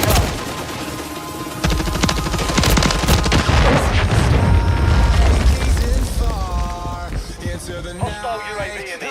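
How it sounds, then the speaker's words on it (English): Missile strike explosions and heavy gunfire in a video game, loud dense booms and crackling bursts building for several seconds, then fading as a music track with melodic tones takes over. "Hostile cruise missile incoming."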